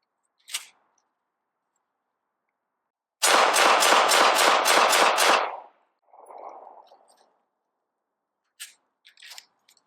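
A rapid string of about seven 9mm pistol shots fired with 125 grain Minuteman ammunition during a recoil test, evenly paced and loud, preceded by a single click and followed by faint rustling and small clanks.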